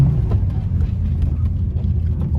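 A BMW M4 struggling through snow in a Colorado winter storm, its engine giving a steady, loud, low rumble as the throttle is held and the wheels spin, with no voices over it.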